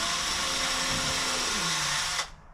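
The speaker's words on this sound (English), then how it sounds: "what I'm going to do is drill my holes" A power drill boring holes to mount a security camera, a loud steady whine running continuously before cutting off sharply near the end.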